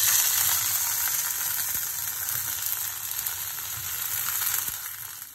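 Mustard greens sizzle in hot oil in a pan, a loud, steady, close frying hiss with occasional soft stirring clicks, no voices.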